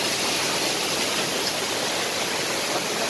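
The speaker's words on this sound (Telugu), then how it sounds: "వాటర్ ఫాల్ ఎలా ఉంటుంది" Koyyuru waterfall near Chintapalli village by Paderu pours in a steady, loud, broadband rush of falling water that stays even and unbroken throughout, with no voices.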